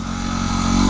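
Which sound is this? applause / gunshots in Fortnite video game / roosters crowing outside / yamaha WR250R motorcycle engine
yamaha WR250R motorcycle engine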